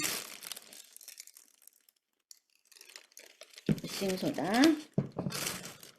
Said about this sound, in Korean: 500ml를 이 비닐에 담습니다